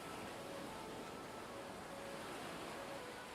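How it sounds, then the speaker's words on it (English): Stormy sea waves surging and boiling in a ten-foot swell, heard as a continuous, faint, broad wash of rushing water with no talk. "the waves surged and boiled in a 10-foot swell"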